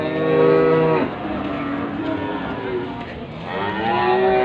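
Two long, loud moos from cattle at the Muntilan livestock market, the first fading out and another rising near the end, with a busy murmur of background noise between them.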